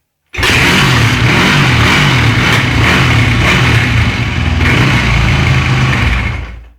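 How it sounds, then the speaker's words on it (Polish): A Yamaha WR 426 dirt bike engine is kick-started without throttle and bursts to life suddenly, then runs loud and steady close by, a rough, continuous rumble that carries on until the end. "Jak widać motocykl zapalił bez większych no, problemów, jak większość krosówek."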